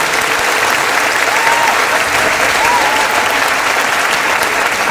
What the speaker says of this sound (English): let's give them a huge round of applause for their support